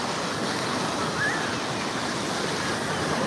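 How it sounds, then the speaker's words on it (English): Ocean waves at Clearwater Beach, Florida, a constant broad wash of surf blended with wind, steady and fairly loud with no clear talk. "There's some waves out there today."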